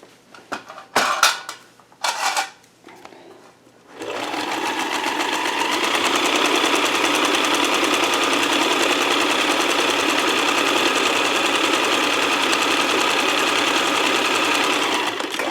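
An old Montgomery Ward sewing machine being refurbished runs steadily at speed with a dense mechanical whir and rattle, preceded by a few clunks and handling knocks.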